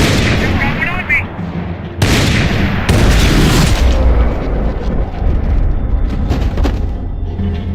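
Heavy gunfire in the video game Max Payne 3, with sharp, loud bursts and booming shots that come in quick clusters, mixed with game voices shouting over the shooting.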